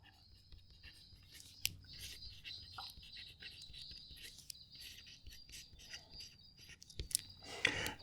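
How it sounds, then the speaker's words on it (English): Quiet scratching of an Opus88 fountain pen nib moving across paper, soft intermittent strokes with small taps and pauses, close and faint against a hushed room. "try and pick up the sound of it writing"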